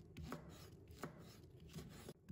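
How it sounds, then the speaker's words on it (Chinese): A knife slices a red chili pepper into strips on a cutting board, a few distinct close chopping taps spaced irregularly, quiet with no speech. "再切成丝"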